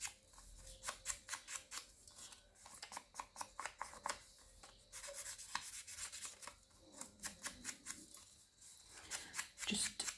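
Scrap paper having its edges distressed by hand, a quiet close run of rapid scraping and rasping strokes in bursts, with no talk.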